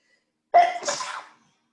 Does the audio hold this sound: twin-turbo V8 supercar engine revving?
no